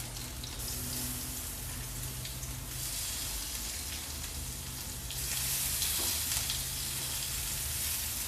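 Shrimp frying in olive oil with garlic over slightly lowered heat, a steady broadband sizzle that grows a little louder partway through, with no talking.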